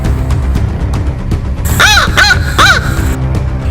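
A crow gives three sharp, harsh caws in quick succession, loud and nearby over a busy background of other sounds.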